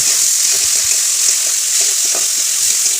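Tomato and onions fry in a hot pan with a bright, steady sizzle, while a spoon scrapes and stirs in soft, irregular knocks underneath.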